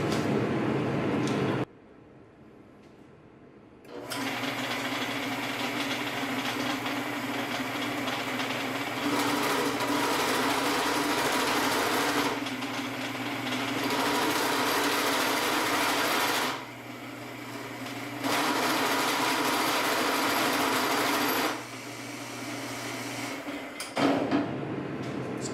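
A modified Torque Meister machine runs at high speed, around 1000 RPM, giving a steady mechanical whir that starts, stops briefly twice, and resumes in long sustained stretches.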